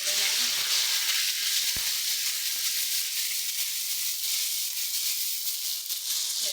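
Ginger and green chili paste sizzles steadily in a hot pan, with a continuous bright frying hiss throughout, a few soft stirring knocks, and no talking.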